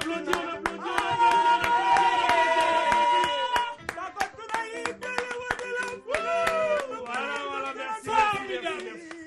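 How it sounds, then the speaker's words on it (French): Audience applause for musicians, with dense sustained clapping and sharp hand claps over lingering musical tones, fairly loud and close. "Voilà, on applaudit."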